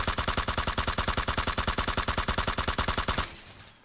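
An M416 assault rifle in a video game fires one sustained full-auto burst at close range, a loud, rapid, even stream of about thirty shots that stops abruptly and leaves a short fading tail.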